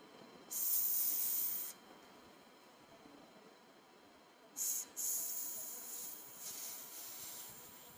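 Onions and carrots sauté in a pan with faint, soft sizzling hisses that come in two short bursts and then a longer one, over a quiet background.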